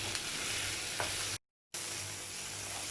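Boiled peas and carrots stirred in a hot pan for pav bhaji masala buns, a continuous loud sizzle with scraping strokes and a brief cut to silence midway.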